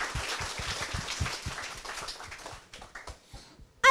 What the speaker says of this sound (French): On va les applaudir à UNICEF Guinée.